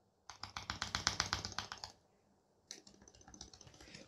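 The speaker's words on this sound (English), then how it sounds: "this stabilizer was overlooped to the point that you can't even press on it properly, and the sound felt so squishy" Rapid burst of clacky keystrokes on a custom NK65 mechanical keyboard with an overlooped stabilizer, then a pause and a softer, muffled run of presses, close and without talk.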